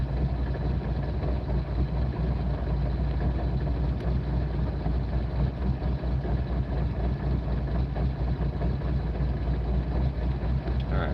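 A Chevrolet Corvette C5 engine idles with a steady, low, continuous rumble, close and even, with no revving or voices.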